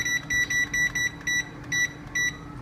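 Kitchen timer beeping in a quick series of about eight short, even electronic beeps with brief gaps, clear and fairly close over a low background hum.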